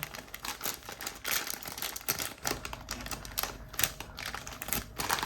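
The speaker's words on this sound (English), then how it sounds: "So we're gonna take these chocolate chips here. We're gonna cut it open." Scissors cut open a bag of chocolate chips, producing close, crisp crinkling and snipping of plastic packaging that runs on without pause.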